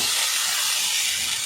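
Tomato goes into fried onion in a hot pan and sets off a loud, steady close sizzle, a continuous bright hiss with no pause.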